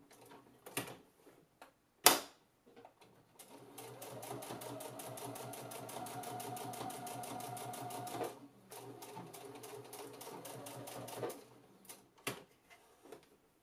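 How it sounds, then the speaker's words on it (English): A sewing machine double stitches over the pleated edges and ties of a fabric mask, running in two sustained bursts of rapid stitching, framed by scattered clicks and handling knocks. "I'm finishing off those final edges and also double stitching over the pleated edges"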